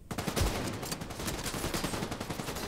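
Gunfire in the video game The Division 2, including a sniper: a steady run of rapid, closely spaced shots that stays fairly even throughout, with little talking.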